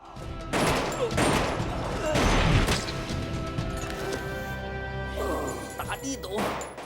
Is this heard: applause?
no